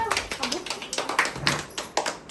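A group claps at a cradle ceremony for a baby in a family home, with quick rhythmic hand claps rising and falling under steady chatter and voices.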